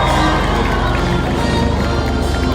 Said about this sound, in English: you need to make as much noise as possible to cheer him on